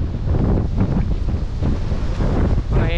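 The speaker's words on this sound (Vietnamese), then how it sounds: "Gió cực kỳ mạnh luôn." Strong wind roars steadily across a beach at Mui Ne in the windy season, buffeting the microphone in a loud, continuous rush, with surf churning beneath it and no voices.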